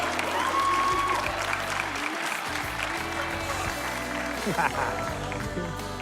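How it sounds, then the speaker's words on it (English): An audience gives a big round of applause at a live event, dense clapping and crowd noise filling the whole stretch at steady loudness, with some voices mixed in. "How about a big round of applause, Mr. Jesse Keenan."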